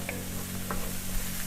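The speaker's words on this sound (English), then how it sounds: "So I'm gonna let this sweat down, let the butter melt, let the onions get translucent." Garlic and onions soften in melting butter in a pan, giving a quiet, steady low sizzle with a few faint utensil touches, no voices.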